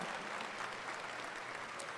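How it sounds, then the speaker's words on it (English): A high school graduation audience applauds in a steady, dense wash of clapping that holds at an even level throughout, fairly soft and unbroken. "Please share a round of applause for their amazing instructor, Mr. Stephen Berkland, and his creative artists"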